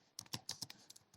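Keys clack on a computer keyboard while someone types a database query, a quick uneven run of about eight close, crisp taps.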